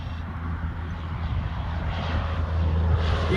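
A Traxxas Slash 4x4 RC car running on a 6s setup builds up on the throttle, its motor a loud, rising steady whine and rumble that grows stronger toward the end, with no talking.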